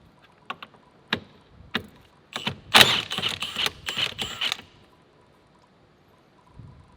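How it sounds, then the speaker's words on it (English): A Milwaukee impact wrench removes a 24 mm steering wheel nut on a Roush Stage 3 Mustang, giving a dense, loud burst of rapid hammering over about two seconds, with scattered clicks and taps before and after. "We got this Milwaukee impact."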